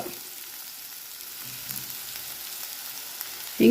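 Green chillies and asafoetida fry in ghee with onions for Rajasthani pancharatna dal, a soft, steady sizzle close by, ending in a brief louder clatter.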